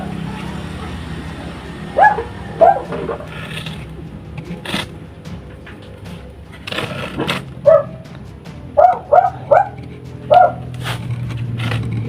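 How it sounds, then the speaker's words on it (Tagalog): Several dogs bark in short, separate yips and bow-wows scattered across the stretch, moderately close, over a low rumbling background with no talk. "May mga aso."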